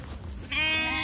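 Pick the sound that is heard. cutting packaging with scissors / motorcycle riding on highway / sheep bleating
sheep bleating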